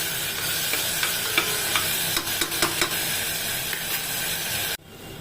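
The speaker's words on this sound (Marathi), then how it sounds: "हे वाटण टाकून घ्यायचं आहे, हे पण छान परतवून घ्यायचं आपल्याला।" Browned onion and ground masala paste sautéing in a pan for coriander pulao, a constant close sizzle with scattered spoon clicks and scrapes that cuts off abruptly near the end.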